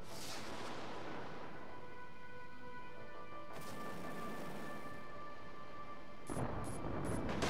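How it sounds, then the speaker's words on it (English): Broadside cannons fire aboard a warship in the Dreadnought space combat game, heavy booming blasts rolling over a steady rumbling bed with a few sharp bursts near the end. "Those are broadside cannons."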